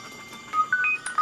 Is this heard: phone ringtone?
yes